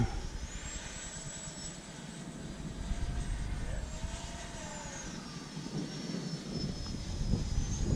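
An FMS L-39 radio-controlled model jet with an 80mm ducted fan flies overhead, giving a steady, sustained whine and rushing roar with slowly shifting pitch that holds throughout at moderate distance.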